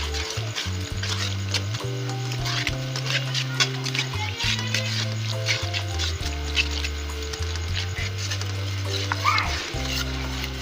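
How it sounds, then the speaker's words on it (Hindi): Spices frying in oil in a pan for a green peas curry, stirred with a steady crackling sizzle and scraping, close, with background music tones running underneath. "अब मिक्स करती हूँ।"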